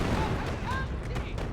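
Gunfire rattles through a Company of Heroes battle, a dense, continuous crackle of shots and distant blasts, moderately loud and unbroken throughout.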